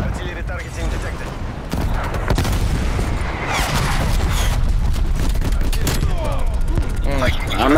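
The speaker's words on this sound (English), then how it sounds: "Artillery targeting detected." An artillery strike in Call of Duty: Black Ops Cold War brings dense rapid gunfire and heavy booming blasts that build and continue throughout, loud and close, with voices speaking over the battle.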